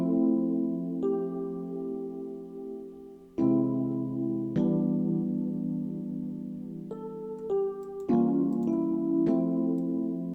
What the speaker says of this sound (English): But I used that chord progression and added a top line melody.